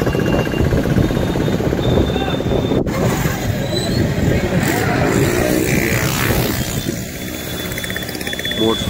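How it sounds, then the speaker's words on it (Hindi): Crowded Haridwar road with dense motorcycle and car traffic, a continuous close engine roar mixed with wind buffeting on the microphone and a voice talking over it. "मोटरसाइकिलों की जितनी भीड़ है"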